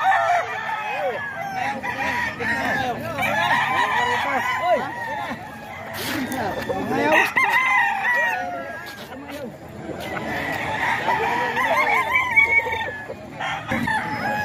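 Gamecock roosters at a Tondo cockpit crow again and again, overlapping and close, alongside clucking and a murmuring crowd, with people talking throughout.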